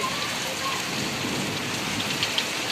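Steady heavy rain falls on rooftops in Bhavnagar, a close, even wash of drops patterning hard surfaces, with a couple of slightly sharper impacts near the end.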